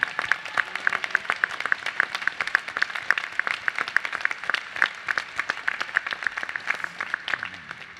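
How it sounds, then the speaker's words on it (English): Applause from the audience at a law school commencement ceremony, a steady, sustained crowd of clapping with crisp individual claps standing out, moderately loud and continuing for the whole eight seconds. "Please join in a warm round of applause in appreciation for Dean Jen Brown"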